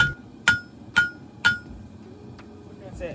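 Three sharp metallic hammer strikes on the hot end of a railroad spike being flattened for a knife, at an even pace, each with a short clear ping, followed by a fainter tap and some quiet talk.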